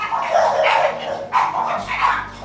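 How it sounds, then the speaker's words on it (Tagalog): Several dogs bark close by in a busy run of overlapping barks and yips, with no clear break between them. "ang daming aso"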